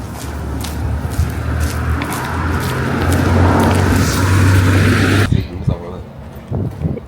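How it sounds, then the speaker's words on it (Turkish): A car drives past on a rainy road in Germany, a broad rushing swell of tyres on wet tarmac that builds and then cuts off, with footsteps and a voice talking to a dog nearby. "Dur araba geliyor."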